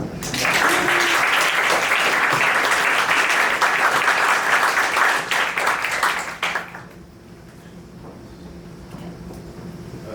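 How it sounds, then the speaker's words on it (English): An audience applauds after a talk at a startup accelerator demo day, full, loud clapping sustained for about six seconds before fading into quiet room noise. "round of applause."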